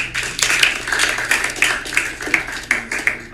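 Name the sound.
audience applause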